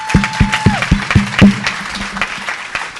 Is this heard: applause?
yes